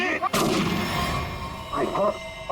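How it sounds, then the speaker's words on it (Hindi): One sharp, loud gunshot cracks out in a forest near the start, followed by a lingering echo and background noise. "किसने गोली चलाई?"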